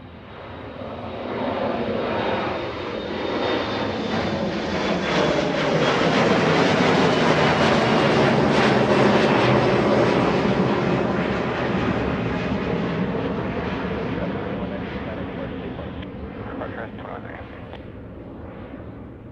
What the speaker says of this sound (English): Little Embraer E175 getting a move on SkyWest, flying to Fairbanks, Alaska.